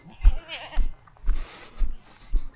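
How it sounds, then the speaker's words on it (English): Goats bleat in a series of about five short, close calls, spaced roughly half a second apart, each with a low thump, and a faint voice is heard between them. "come on. Come on, goats."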